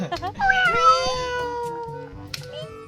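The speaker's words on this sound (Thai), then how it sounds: "มันร้องเหมือนแมวเลย" A Roblox game character cries out with a drawn-out, rising-and-falling cat-like meow, loud and close, followed by a softer trailing tone.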